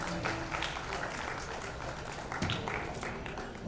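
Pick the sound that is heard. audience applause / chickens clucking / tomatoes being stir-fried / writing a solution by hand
audience applause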